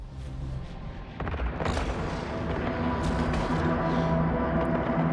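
Spaceship cannons fire in the Eve Online space game, and deep booming shots and crackling bursts build up over a low rumbling background, growing louder and more continuous toward the end.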